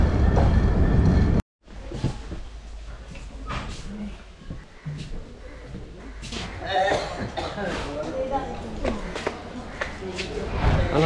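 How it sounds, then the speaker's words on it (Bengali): The Panchagarh Express passenger train rolls near the Panchagarh railway station in Bangladesh, a steady close rumble and clatter that runs through the clip after a brief cut, with people talking over it. "আর এটা এই যে ট্রেন, এই ট্রেনে করেই আমরা আসছি পঞ্চগড় এক্সপ্রেস।"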